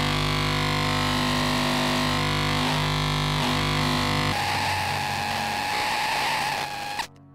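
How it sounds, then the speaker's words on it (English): Wild, dense electronic noise from a DIY EMF detector run through fuzz pedals, a loud buzzing drone full of harmonics that shifts texture partway through and then stops suddenly. "if you add some fuzz pedals into the mix, you can make all sorts of wild noise."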